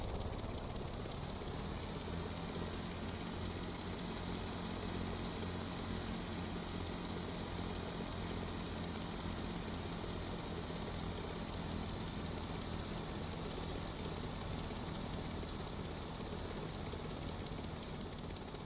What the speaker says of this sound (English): So it has a 2-cylinder motor in there.